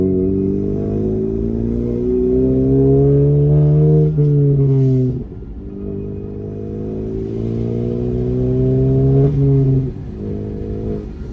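A modified 2019 Honda Civic Sport engine accelerating loudly up through the revs, a rough droning tone climbing steadily, dropping at a gear change, then climbing again.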